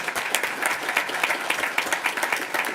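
Audience applause at a school board meeting, a moderate, steady patter of many hands clapping from a smallish crowd, heard alone without talk.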